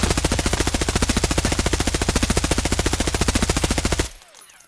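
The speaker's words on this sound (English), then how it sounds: "I'm just gonna shoot it and not control it." Sustained full-auto fire from an HK rifle in the video game Escape from Tarkov, a loud, rapid, evenly spaced burst of shots running about four seconds before cutting off into a brief fading tail.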